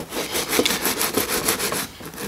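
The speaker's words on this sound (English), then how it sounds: "you give it a good scrubbing in there" Game Boy Advance SP connectors get scrubbed with isopropyl alcohol, making a brisk back-and-forth rubbing in even strokes, close and loud with no talking.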